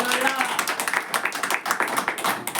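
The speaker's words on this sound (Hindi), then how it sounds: "आइए हम लोग ताली मारेंगे।" Church congregation clapping hands together in a quick, steady rhythm, dense overlapping claps from many people close by, with faint voices beneath.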